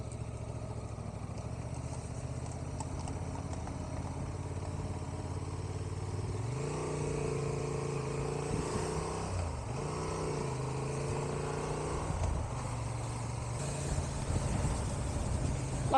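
A Honda Transalp 750 motorcycle engine rumbles steadily, then revs up around the middle with rising and falling pitch as it rides past, fairly close.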